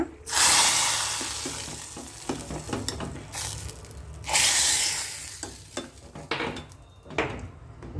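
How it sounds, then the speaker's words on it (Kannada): Loud bursts of hot coconut oil sizzling and crackling as tempering chilies and spices hit the pan, rising twice and fading, with light clinks of a utensil in between. "ಒಗ್ಗರಣೆ ಮೆಣಸು ಹಾಕಿಬಿಟ್ಟು ಒಂದು ಒಗ್ಗರಣೆ ಹಾಕ್ಕೊಡೋಣ"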